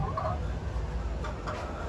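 Chickens on a poultry farm of egg-laying hens cluck in short, close, moderately loud bursts, with busy background noise from the flock and no voices.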